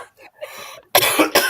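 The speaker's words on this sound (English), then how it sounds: "Welcome to the Friday night coughing fit." A man has a coughing fit during a Friday night livestream, with a few softer throat sounds first, then two loud, harsh, close coughs in quick succession.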